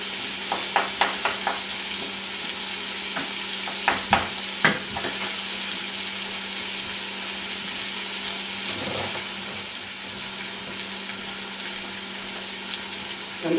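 Tomatoes stirred and crushed with a small wooden tool in a pot with cooking onions and potatoes; steady sizzle with a run of sharp taps and knocks early on, then quieter scraping.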